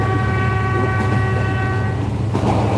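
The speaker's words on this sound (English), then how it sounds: "Can you guys hear the train in the background?" A train rumbles past steadily with a sustained horn-like tonal hum and low rolling clatter, loud and continuous for the whole stretch, heard from inside on a rail journey from Da Nang to Quy Nhon.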